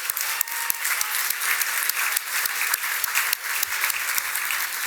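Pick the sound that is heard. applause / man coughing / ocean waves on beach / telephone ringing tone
applause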